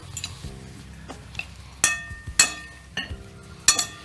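Salad tossed with olive oil in a bowl, heard as a few sharp clinks and taps of utensils against the dish, spaced irregularly over a quiet background.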